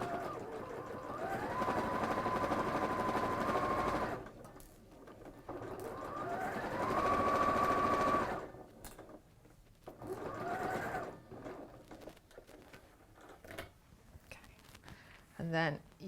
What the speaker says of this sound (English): you're going to sew along that fold line